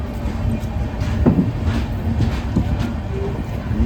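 The Himgiri Express, Howrah to Jammu Tawi, rolls into Patna station on a foggy, cold morning, with a steady rail rumble and a few sharp wheel clacks, while someone talks over it.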